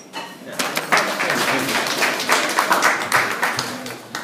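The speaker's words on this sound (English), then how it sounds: "Have a huge round of applause." An audience applauds at the opening of a cycling festival in Leicester with a dense, steady burst of many hands clapping fairly close. It builds quickly and holds for several seconds with no voices on top.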